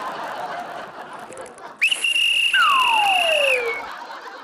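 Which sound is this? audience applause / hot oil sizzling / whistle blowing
whistle blowing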